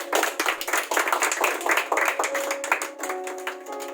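An audience gives a loud welcoming round of clapping as a teacher is called onto a stage at a children's quiz event, continuous dense applause with a faint tonal hum emerging toward the end.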